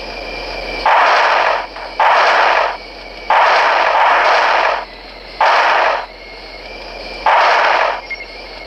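Shots fired in the Bridge Strike video game on Switch, five loud, evenly spaced bursts of synthesized gunfire, each about a second long, separated by quieter gaps with a faint background hum.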